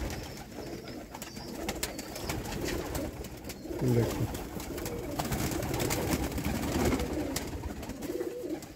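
Rooftop pigeons coo softly among a noisy, crowded loft of birds, with low murmuring calls rising now and then above steady flutter and background clatter; someone speaks briefly.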